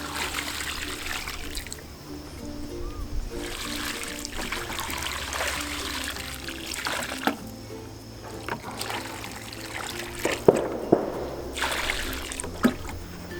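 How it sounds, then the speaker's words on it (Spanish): Water is poured onto a potted dwarf lemon plant, a continuous trickling, splashing stream that swells and eases in waves. Occasional small knocks and splashes stand out against the flow. "ahora lo que hacemos es regarlo de esta manera con la misma agua."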